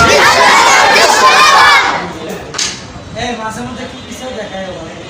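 A large crowd at a Bangladeshi religious gathering in Bogura roars a loud collective chant in reply to a Nara-e-Takbir call, a dense burst of voices that breaks off after about two seconds, leaving scattered murmurs and chatter.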